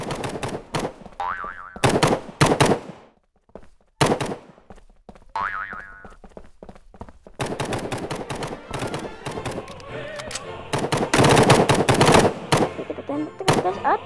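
Gunfire in the mobile game Hide Online comes in rapid bursts of close, sharp shots with springy boing-like effects, broken by short silent gaps and building into dense volleys toward the end.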